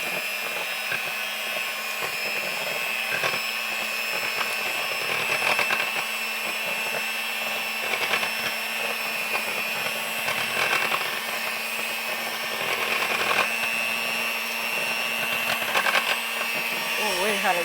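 An electric mixer beats yellow cake batter made from a Duncan Hines box mix, a steady whirring drone running throughout with small bumps in pitch as the beaters move around the bowl.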